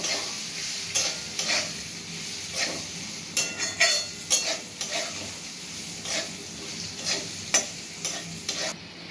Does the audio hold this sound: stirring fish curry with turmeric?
yes